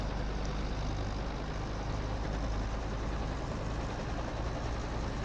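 Robinson R22 helicopter engine in MSFS2024 video game, a steady low broadband drone with a rough rumble, holding level and constant throughout without distinct changes.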